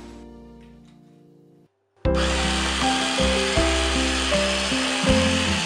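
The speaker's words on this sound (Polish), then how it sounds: "Wszystko miksujemy. Dolewamy trochę oliwy." A dull hum cuts off, then a loud motorized blender whirs steadily, mixing basil sauce with olive oil, its pitch shifting slightly as it churns.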